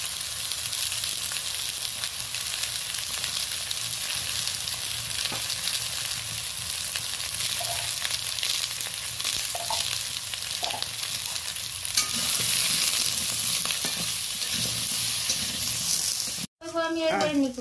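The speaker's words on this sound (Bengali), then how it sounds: "আলু বেগুনটা বেশ মোটামুটি ভালো করে ভাজা হয়ে গেছে, হালকা লালচেও হয়ে গেছে।" Potato and eggplant pieces frying in a pan with salt and turmeric give a steady, close, loud sizzle that continues without a break, with faint stirring and a sudden short cut near the end.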